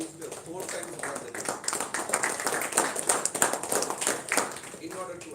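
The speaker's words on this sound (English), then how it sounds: "So I request all of you to give her big claps" An audience in a Toastmasters club meeting claps for a speaker, a steady patter of many hands filling the room for several seconds with voices talking over it.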